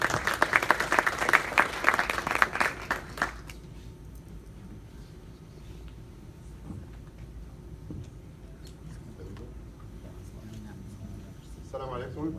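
An audience bursts into loud, dense applause to welcome a speaker to the stage at a soft-skills career talk. The clapping lasts about three seconds, then drops away abruptly to a quiet room hum.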